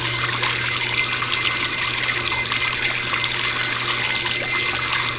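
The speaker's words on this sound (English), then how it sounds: "we're just letting that bleach pump pull water through the valve and the pump, so it rinses them both out" Water pulled by a bleach pump on a pressure washing rig rinses steadily through the valve and pump, a continuous rushing, trickling flow with a low steady hum underneath, close and unbroken.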